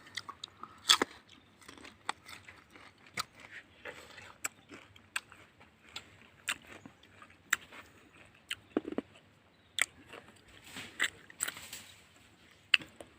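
Someone bites and chews jujube fruit outdoors at midday, producing sharp crunchy bites followed by irregular close-up chewing clicks and crackles over a quiet background, with no talk.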